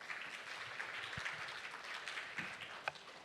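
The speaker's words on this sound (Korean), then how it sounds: "박수로 맞이해 주시면 좋겠습니다." Audience applause welcoming a speaker at a luncheon session of the Bioplus-Interphex Korea 2022 conference, soft and fairly distant clapping spread across the room, steady and low in level.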